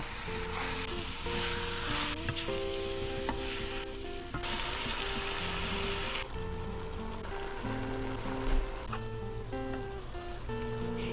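Beef sautéing in a pan until browned for papaitan, a steady loud sizzle and crackle running throughout with occasional stirring clatter, no voices.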